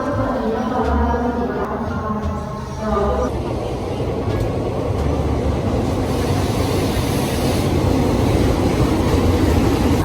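Continuous rumbling and rattling of a moving train heard from inside, with a person talking briefly near the start.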